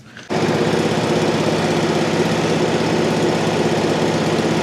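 A welder generator's engine runs steadily at auto idle after starting abruptly, a loud continuous low droning hum with no talk over it.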